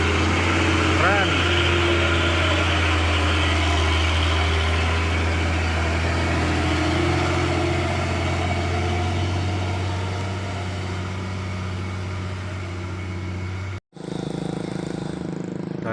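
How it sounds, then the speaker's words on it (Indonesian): Hino 500 truck engine running steadily with a deep, continuous low drone, close and loud throughout, briefly cutting out near the end; someone talks over it. "Mantap kali truknya bosku. Hino 500."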